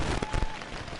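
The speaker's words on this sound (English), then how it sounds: "and the rain continues to fall here." Steady rain falls outdoors at a professional paintball tournament, a continuous broadband hiss with a few louder drop bursts, no voices.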